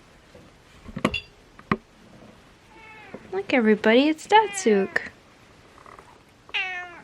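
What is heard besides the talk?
cat meowing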